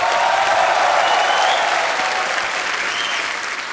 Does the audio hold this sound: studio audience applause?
yes